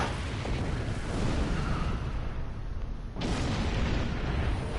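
A starship blows up in the space game Star Trek Online, a loud, sustained rumbling explosion with a dense roar that holds for several seconds, briefly dips, then surges again.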